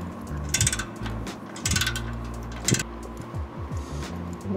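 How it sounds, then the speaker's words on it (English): A ratchet clicks in several quick runs while loosening two 12 mm mid-pipe bracket bolts under a BRZ/GR86, each burst of metallic ticking close and distinct against a quiet garage. "Now we're going to just loosen the mid-pipe bracket via these two 12 mil bolts up here."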